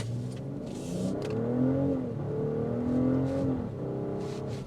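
A 2026 BMW X5 SUV with a 48-volt mild hybrid system, in sport mode, revs and accelerates with a deep, throaty exhaust note, rising and falling in pitch twice, loud and close.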